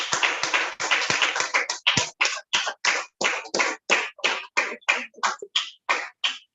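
A small audience claps to welcome the Toastmaster at a Seaside Toastmasters club meeting, starting as dense applause and thinning into separate, rhythmic hand claps that fade toward the end.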